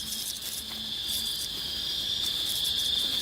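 A cricket chirps in a steady, continuous high trill, loud and close, with no voices.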